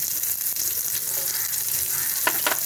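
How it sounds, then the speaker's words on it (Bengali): Chopped onions fry in hot oil in a wok with nigella seeds, giving a steady close sizzle throughout and a couple of brief stirring scrapes near the end. "পেঁয়াজটা একটু আমি লাল লাল করে ভেজে নেব"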